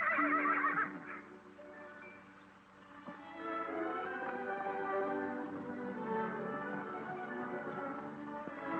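Several horses neigh and whinny on a ranch, a loud, harmonic call at the start followed by overlapping, sustained whinnies through the rest, with no talking.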